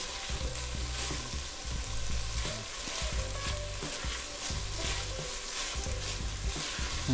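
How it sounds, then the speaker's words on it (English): Onions and carrots sautéing in a pot for broccoli cheese soup, a dense, even sizzle running steadily throughout, close and fairly quiet, with no speech. "As you can see, the onions and the carrots are cooking down here."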